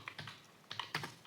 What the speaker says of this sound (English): So here I am typing like enter the value